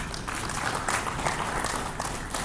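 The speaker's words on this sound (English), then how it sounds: "Another round of applause" Applause from an audience at a conference session after a presentation, steady dense clapping throughout, moderately loud with no voices over it.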